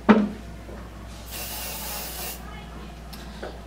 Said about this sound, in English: So you're going to get your hairspray.